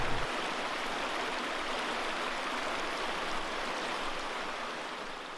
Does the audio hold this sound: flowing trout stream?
yes